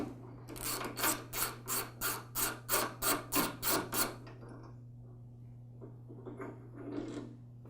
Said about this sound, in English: Next, I'll remove this bracket that goes between the change lever and the throttle lever.